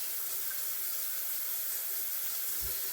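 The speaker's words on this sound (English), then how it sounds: "Just wash my hands" A tap runs steadily for hand washing, giving an even hiss of flowing water with a soft low bump near the end.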